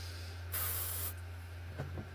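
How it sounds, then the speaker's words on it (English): A single aerosol spray-paint burst of about half a second onto the wooden decking of a resin model base, a bright steady hiss, followed by faint light handling noises against a low background hum. "We're going to spray paint the deck."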